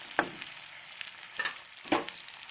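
Chicken meat and fried potatoes sizzle in a pan while a utensil stirs them, producing three distinct scraping strokes over a soft, quiet background of frying.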